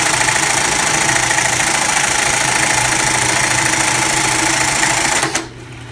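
A Reece 101 keyhole buttonhole sewing machine runs loud and close with a steady mechanical chatter and knocking rhythm for about five seconds, then abruptly winds down to a quieter hum.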